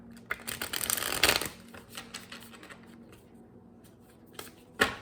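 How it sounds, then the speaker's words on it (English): Crisp riffling and flicking of a deck of tarot cards being shuffled, a dense burst early on, then scattered softer taps and a final sharp riffle. "I always want to make sure I shuffle it."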